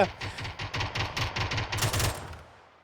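Rapid bursts of automatic gunfire from a gun in the video game PUBG on the Vikendi map, about a dozen quick shots in a steady rhythm, loud and close, before the sound tails off.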